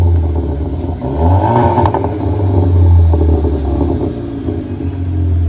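Cupra Formentor with an aftermarket exhaust and rear diffuser revs loudly and steadily up close, a deep droning rumble rising and falling through several throttle blips with no talking.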